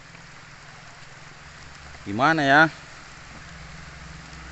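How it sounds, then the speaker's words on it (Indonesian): Steady rain falls outdoors during a fishing trip for Siamese gourami, a constant soft hiss that runs the whole time, with a person briefly speaking over it midway. "sudah hujan turun"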